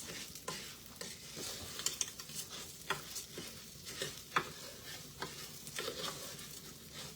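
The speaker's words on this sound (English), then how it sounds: "now you don't want your rice to burn, so you have to stir this." Rice stirred in a pot as it fries in butter for yellow rice, a spoon scraping in repeated strokes over a steady close sizzle, with no talking.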